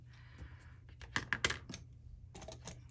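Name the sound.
cutting away paper along a score line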